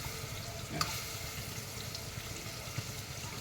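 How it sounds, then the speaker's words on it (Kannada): A ground paste of green chilli and mint fries in a pan for a mutton biryani, giving a quiet, even sizzle with a soft clink or two. "ಹಸಿಮೆಣಸಿನ್ಕಾಯಿ ಪುದೀನ ಅದ್ರ ಪೇಸ್ಟ್ ಹಾಕ್ಕೊತಾ ಇದ್ದೀನಿ ಫ್ರೆಂಡ್ಸ್"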